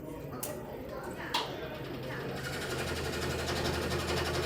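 A scroll saw cutting slowly through wood during a workshop demonstration, giving a steady buzzing, rattling drone that grows slightly louder and denser toward the end, with a couple of sharp knocks early on.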